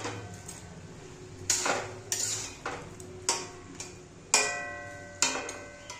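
Bottle gourd and fried fish stirred in a pan, a series of sharp metallic scrapes and clinks of a ladle against the pan at an irregular rhythm, fairly close.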